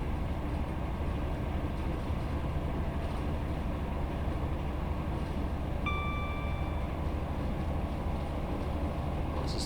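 A ScotRail Class 158 Sprinter rolls along the Fife Circle Line in Train Sim World, its steady diesel drone and wheel rumble filling the clip, with a brief tonal chime partway through and no talking.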